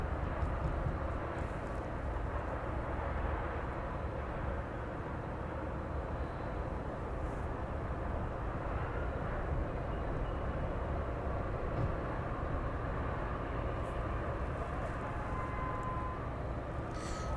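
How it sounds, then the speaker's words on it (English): A West Atlantic Boeing 737 on final approach at East Midlands Airport, heard as a steady, loud broadband jet roar that holds constant throughout with no talking. "The West Atlantic 737 just on final approach now."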